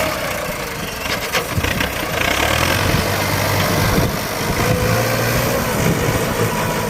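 A bulldozer engine revs hard as its blade pushes into earth while road-shaping alongside a six-wheel truck, a loud continuous diesel drone with rising throttle surges, close by.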